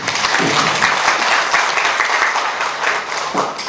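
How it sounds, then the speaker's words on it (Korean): A room full of people at a keynote address claps steadily for several seconds, the applause swelling and easing slightly, with no one speaking over it. "박수 한번 주시면 어떻겠습니까?"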